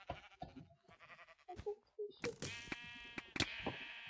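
Several sheep bleats from the video game Sheep Quest ring out in quick succession, short and nasal, rising toward a louder burst of overlapping cries near the end.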